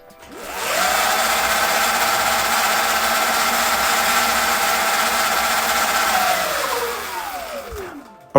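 Sur-Ron electric motorbike motor held at full throttle, a loud steady whine that rises quickly to a sustained pitch, holds for several seconds, then winds down smoothly at the end.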